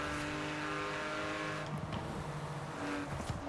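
A 1995 Porsche 911 Carrera 2 Guntherwerks engine in the Forza Horizon 4 driving game drones steadily, shifting pitch as it revs and settles, moderately loud and continuous with no talk.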